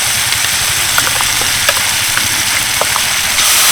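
Spice paste sizzling and frying in hot oil in a kadai, steady loud crackling hiss with occasional stirring scrapes, close and continuous.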